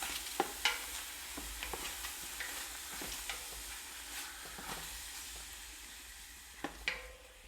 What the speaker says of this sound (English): I got my meat inside the pot, as you can see, and I just move it around